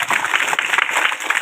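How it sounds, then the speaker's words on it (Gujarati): Audience applause at a primary school quiz competition, a steady dense wash of clapping from a crowd that runs evenly through the moment without letting up. "જોરદાર તાળીઓ."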